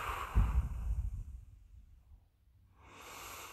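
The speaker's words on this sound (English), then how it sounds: "I'm going to take a deep breath." A person takes a deep, audible breath in, a close, breathy rush of air that fades into near silence before a softer hiss returns.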